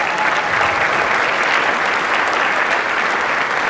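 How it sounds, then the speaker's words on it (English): Steady, dense applause from a dinner audience at a veterans' event, clapping for a live jazz band; loud and continuous throughout with no talk over it. "Can you give them a round of applause?"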